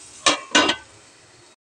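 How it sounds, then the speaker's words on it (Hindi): Two sharp metallic clinks as a lid is set onto a pot of cooking potato, cauliflower and pea vegetables, followed by a short ringing fade. "ढक देंगे और दो मिनट तक पकाएंगे।"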